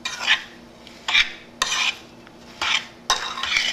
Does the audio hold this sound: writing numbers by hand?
no